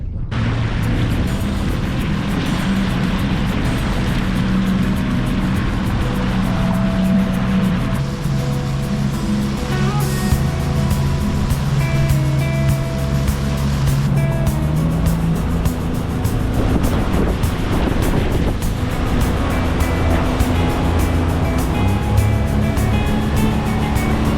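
A fishing boat fitted with a Terrova trolling motor runs along on open water, its steady engine drone mixed with continuous water rush and wave noise throughout.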